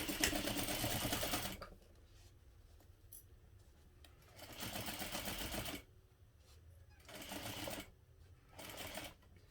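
A sewing machine stitches a backpack seam in short bursts, a long run first and then several briefer runs with quiet pauses between them, close by and moderately loud.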